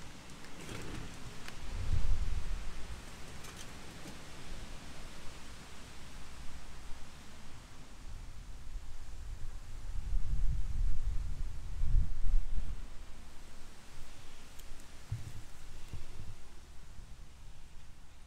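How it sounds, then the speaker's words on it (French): Strong wind buffets the microphone in low, rumbling gusts, swelling loudest around the middle and near the end, with no voices. "Il y a beaucoup de vent aujourd'hui."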